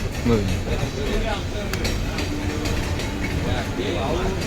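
A Mumbai local train from CSMT runs at night, giving a continuous low rumble with rattling carriage noise and faint clicks from the track, while a voice talks over it.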